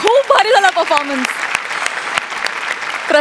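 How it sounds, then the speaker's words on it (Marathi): Audience applause for performers on a Marathi comedy stage show, steady clapping running under a loud voice at the start and continuing throughout. "जोरदार टाळ्या सगळ्यांसाठी"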